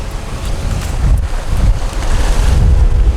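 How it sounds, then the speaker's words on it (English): Strong wind buffeting a sailboat on a beam reach, a loud continuous roar with gusting rushes and some water movement, close to the microphone and without talk. "So much windier with a beam reach."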